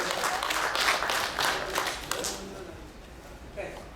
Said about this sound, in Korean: 여러분 다시 한번 큰 박수로 축하해 주시죠